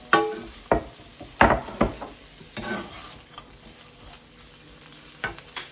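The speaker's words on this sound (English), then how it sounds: "Let's get all that into the stir fry." Pork stir-frying in a pan, a low background sizzle broken by several sharp scraping and tossing hits from a spatula, most frequent early on, with no talking.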